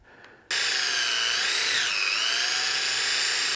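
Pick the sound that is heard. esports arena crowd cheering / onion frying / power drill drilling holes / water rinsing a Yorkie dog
power drill drilling holes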